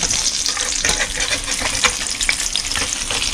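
A fried egg sizzles and spits in a hot pan over high heat, a dense, steady crackle with small pops scattered throughout, close and alone with no talk.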